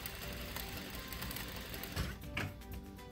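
A sewing machine stitches swimsuit fabric for a shelf bra, running in a fast, even mechanical patter close by, with a couple of brief louder knocks near the end and no speech.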